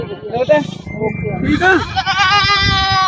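A Barbari goat bleating close by, several wavering, nasal cries rising and falling in quick succession, overlapping with people talking.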